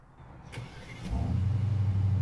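A 2021 Aston Martin DBX with a Mercedes-sourced twin-turbo V8 starting up: a couple of clicks and a starter whirr, then the engine catches and settles into a deep, steady, loud idle rumble.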